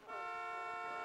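A car horn in The Sims 1 on the PS2 console gives a single sustained, steady honk lasting about a second, quiet and alone with no talking.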